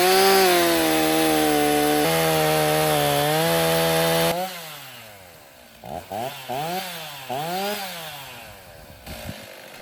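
A loud Stihl MS290 chainsaw revs steadily up close, then bites into wood with rising and falling strain as the engine bogs and recovers during the cut.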